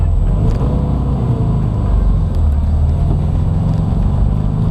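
A 1972 VW Bus engine stumbles under acceleration, a loud, close, uneven low rumble that stays rough and labored without building smoothly.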